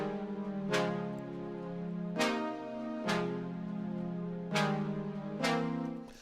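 Lush synthesizer pad chords for a future bass production, sustained and fairly loud, with new chords struck about every second and a half across several changes, alone with no voices.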